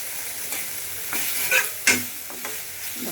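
Spice masala stir-fried in a pan before fish belly pieces go in, a constant close sizzle broken by quick spatula scrapes and two sharp metallic clinks.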